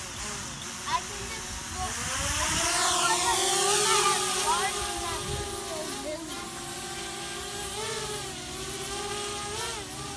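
A DJI Spark drone in flight, a close, steady high-pitched propeller whine with harmonic tones that bend and shift as it maneuvers, under a broad hiss.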